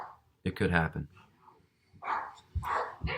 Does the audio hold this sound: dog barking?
yes